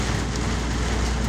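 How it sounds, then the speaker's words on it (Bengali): Heavy rain pours down in Saudi Arabia as a dense, loud, unbroken hiss that fills the short moment with no voices. "আজকে প্রচুর বৃষ্টি হচ্ছে"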